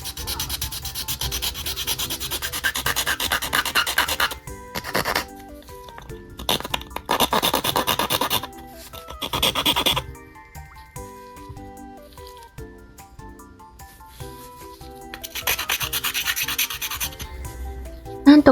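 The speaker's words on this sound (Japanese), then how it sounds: "ここから頑張って研磨していきます" Steady, close rasping and rubbing as a cured resin piece is sanded by hand, coming in repeated bursts with short pauses between strokes.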